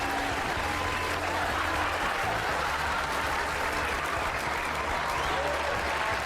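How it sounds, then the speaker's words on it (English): Canned crowd cheering and applause used as a stream raid alert sound effect, a dense continuous roar of clapping and whoops lasting several seconds. "It's the same sound effect."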